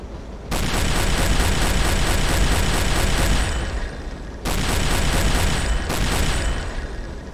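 Deck gun fire from the U-8 submarine in Silent Hunter 3 (GWX) hammers a ship in loud, rapid repeating bursts. A long volley is followed by a short pause, then two more bursts of firing with no voices.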